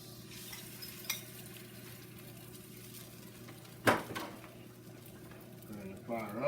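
Eggs cook in a skillet for a ham and cheese omelette, with a soft, steady sizzle under a low hum. A sudden scrape and clatter of utensil against pan cuts in midway and again near the end.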